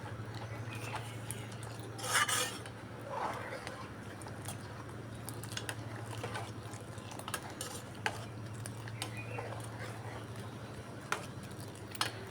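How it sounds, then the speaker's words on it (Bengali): Semai simmering with date palm juice, sugar and milk in a pot, stirred with a utensil: soft scraping and occasional clinks over a low steady hum, quiet and close. "খুব ভালো করে নেড়ে চেড়ে নিচ্ছি।"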